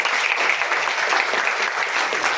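Loud, steady applause from a crowd of students and guests at a student award ceremony in a coaching centre hall in Katni, thick clapping throughout.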